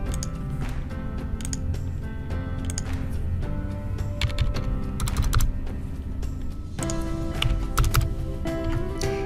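Keys clatter in quick, uneven runs on a computer keyboard as shipping data is entered into a landed cost calculator, heard over a steady, fairly loud bed of background music.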